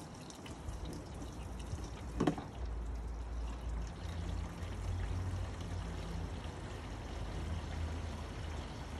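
Water pours steadily into a basketball hoop base, a continuous rushing splash with a brief louder slosh early on, heard alone without talk.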